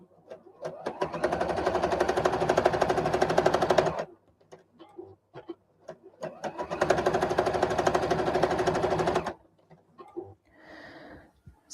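A sewing machine stitches rows of shirring elastic onto a skirt in two long, rapid, rattling runs of about three seconds each. Short pauses with light handling noises separate the runs.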